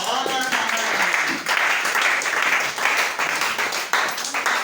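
A church congregation claps loudly and continuously in dense, rhythmic bursts, with voices calling out over the applause.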